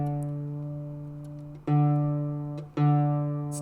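A baritone ukulele with nylon strings strummed close by: three loud, full chords, each left ringing and slowly fading before the next strum, with no voices over it.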